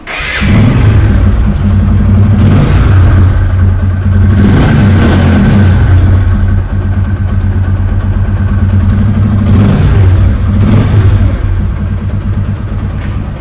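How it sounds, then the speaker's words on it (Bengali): A TVS Apache RTR Ghora motorcycle, a used bike, runs its engine steadily and loudly close by, with two brief revs rising above a constant low drone. "বাইক যদি দেখায় বাইকটির সাউন্ড কন্ডিশন"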